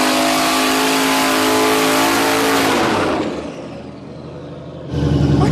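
A boosted hot rod accelerates hard, its engine roaring loud and close with a rising pitch, then easing off before the throttle snaps open again for another burst.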